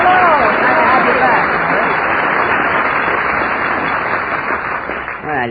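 Studio audience applause on an old radio comedy show, a dense steady wash of clapping filling the whole stretch, with voices talking over it near the end; lo-fi, band-limited broadcast sound.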